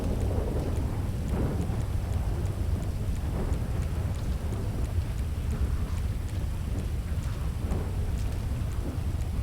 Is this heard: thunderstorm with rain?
yes